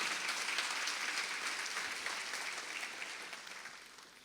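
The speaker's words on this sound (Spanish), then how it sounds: "Si vas a aplaudir, hacelo fuerte, fuerte, bien ahí." An audience at a church youth workshop applauds loudly, dense clapping that slowly fades toward the end, with no talk over it.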